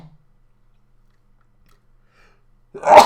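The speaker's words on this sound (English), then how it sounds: "I need to sneeze." A single close, loud sneeze bursts out at the very end after near silence.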